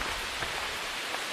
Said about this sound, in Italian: Che bellezza che piove, eh?